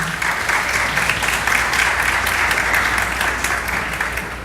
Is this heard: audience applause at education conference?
yes